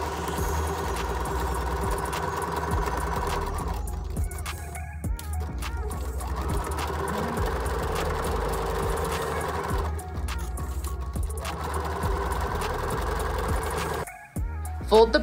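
A sewing machine stitches the short edge of a folded fabric bucket-hat brim, running in a steady close whirring drone with brief pauses and a stop near the end.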